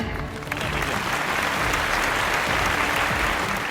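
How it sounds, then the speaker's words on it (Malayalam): Audience applause for Red Cross volunteers at a Wayanad district relief event, dense and steady clapping from a large crowd that swells after the first half-second and holds loud throughout. "അവർക്കൊരു നല്ല കയ്യടി കൊടുക്കാം, അല്ലേ?"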